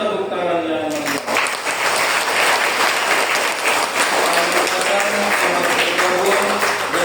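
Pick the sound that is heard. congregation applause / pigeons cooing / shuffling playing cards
congregation applause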